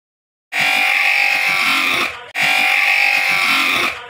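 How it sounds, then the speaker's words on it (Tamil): An optical edging machine grinds a progressive spectacle lens, giving a loud, steady whirring buzz in two runs of about one and a half seconds each, split by a short break, close up with no talking. "ஃபர்ஸ்ட் கட் பண்ண லென்ஸை நம்ம வந்து நல்லா ஷேப்பாக ஃபினிஷிங் வந்து கிரைண்ட் பண்ணுறோம்."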